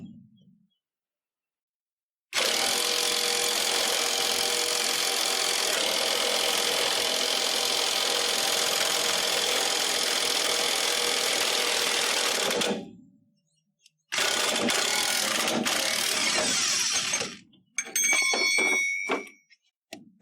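A high-torque impact wrench hammers continuously for about ten seconds while pressing a ball joint into a truck, then fires again in two shorter bursts, loud and close, with no talking.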